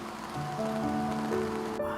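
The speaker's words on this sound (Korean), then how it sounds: "야속하게 비가 퍼붓고 맙니다." Heavy rain pours at night as a steady, dense hiss, with a faint tonal hum running underneath it.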